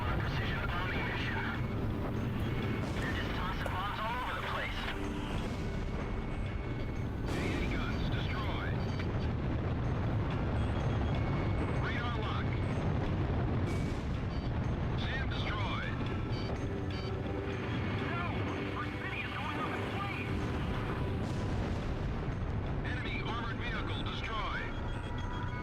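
Bomb explosions in the video game Ace Combat Zero: The Belkan War, a steady roar of rumbling blasts and aircraft noise, with sharper bursts recurring every few seconds across a long stretch.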